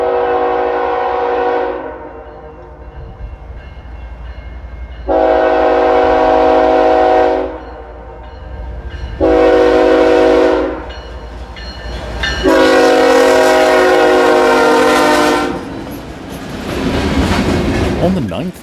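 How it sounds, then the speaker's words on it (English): A BNSF-led grain empty freight train with a trailing CN SD75I locomotive sounds four loud, drawn-out horn blasts, with the train rumbling nearby throughout and the last blast running into rolling clatter. "we would catch up at Kishwaukee Street with a grain empty, with a BNSF motor leading 7006 and an SD75I Canadian National motor trailing."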